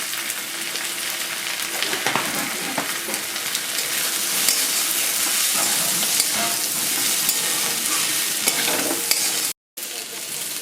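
Onion, cashews and poppy seeds frying in a pan, a steady dense sizzle with scraping stirs throughout, loud and close, with a brief cut near the end.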